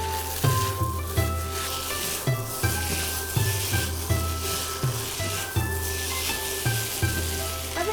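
Pad Thai noodles sizzle in a hot pan, a bright steady hiss broken by regular scraping stirs of a utensil roughly every half second, with no one talking.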